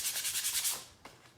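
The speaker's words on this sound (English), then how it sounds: "After you're done putting your base coats on, you want to just kind of lightly sand it." A chunky wooden fall-shaped cutout with a painted base coat is lightly hand-sanded, giving a soft, rhythmic swishing rub of about six quick strokes, then a few quieter scuffs.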